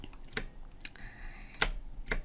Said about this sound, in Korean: 컨트롤 A 눌러서 전체 선택하고